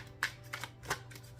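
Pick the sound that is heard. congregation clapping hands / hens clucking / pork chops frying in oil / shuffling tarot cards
shuffling tarot cards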